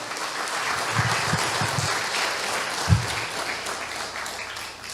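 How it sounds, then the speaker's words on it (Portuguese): Church congregation applauding during a sermon, a loud continuous wash of clapping with a few individual claps standing out, close and steady for about five seconds with no talk over it. "Dá uma salva de palmas para o Senhor."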